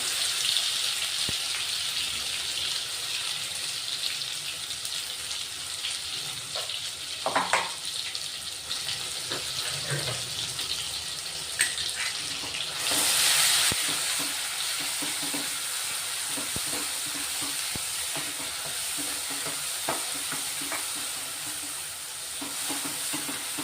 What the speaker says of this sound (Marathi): वाटण केलेलं आहे ते ओततोय आपण